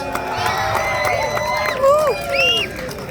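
A community crowd at an outdoor chorus show applauds and cheers, with shouts and whoops rising over steady clapping close by, and voices calling out amid the noise.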